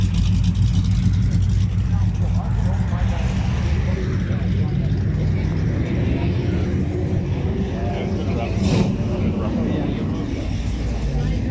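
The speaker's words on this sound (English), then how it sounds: "Okay, let's hear this car." A car engine at a muscle car meet roars loud and steady at close range, a continuous heavy rumble with brief voices calling out over it.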